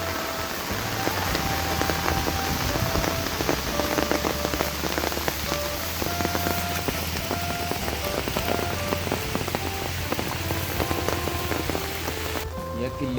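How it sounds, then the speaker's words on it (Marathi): Heavy rain pours down steadily at a hill fort near Gaganbawda, drumming densely on a surface with a constant loud hiss that never lets up. "इथं तर पाऊस खूप मोठ्या प्रमाणात आहे"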